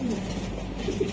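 Racer pigeon cooing close by, a low throaty coo with a short burst near the end, over a continuous low background rumble.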